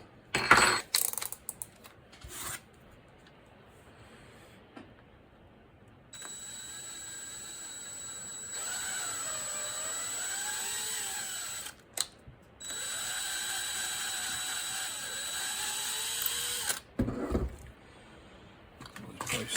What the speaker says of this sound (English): So I think the next job will be to drill, well, tap these holes here.